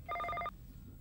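During a call-in TV show, a telephone gives one short burst of fast electronic ringing pulses. It is fairly loud and heard alone, then cuts off into a quiet studio background.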